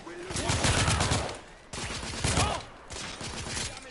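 Rapid, dense gunfire from the video game The Order: 1886, crackling in three loud sustained volleys with brief dips between them, shots overlapping into a continuous barrage close at hand.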